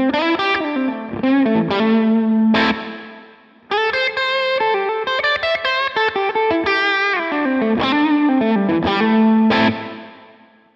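Electric guitar with a distorted tone runs through a Strymon BigSky reverb pedal, playing melodic chords and lead lines steadily for about ten seconds, with brief gaps and reverb tails between phrases.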